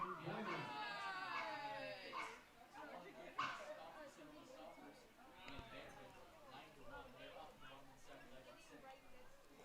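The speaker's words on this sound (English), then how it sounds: "Now I've heard some full-throated barking there, too." Dogs bark and yip at a Lincoln Potters vs Walnut Creek Crawdads baseball game, with several full-throated barks a little distant, heard under and between steady play-by-play commentary.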